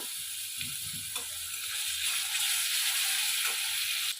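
Spoonful of garlic paste frying in a pan over browned onions, a fairly faint steady hiss of sizzling oil with a few soft stirring clicks, no speech.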